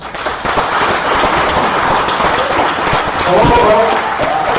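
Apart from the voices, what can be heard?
audience applause welcoming a speaker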